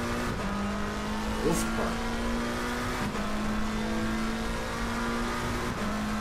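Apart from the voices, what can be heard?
race car downshifting in Assetto Corsa Competizione video game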